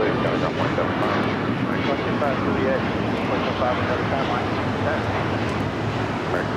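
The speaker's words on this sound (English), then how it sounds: "Breeze, Airbus A220-300 also arriving here on the south side." A Breeze Airways Airbus A220-300 arriving on the south side at LAX makes a continuous broadband jet rumble, with a voice talking over it throughout.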